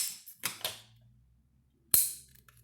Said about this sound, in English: Let you listen to that click again, charge it.